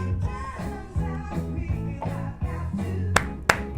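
Played from a soul vinyl record, music carries sharp clapping hits over a groove, with a few crisp claps standing out near the end.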